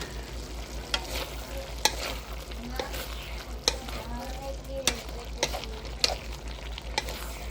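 Pork binagis being stirred as it fries in a pan, with a steady sizzle and repeated sharp scrapes and clinks of the utensil against the pan at irregular intervals, close and clear, no talk.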